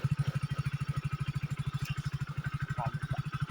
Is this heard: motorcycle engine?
yes